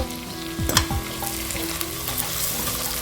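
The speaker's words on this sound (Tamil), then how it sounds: "நல்லா பச்சை வாசனை போட்டு வதக்கிங்க." Onions with ginger-garlic paste sauté in hot oil for egg biryani, a steady close sizzle and fry with a few louder stirring scrapes early on, no voices.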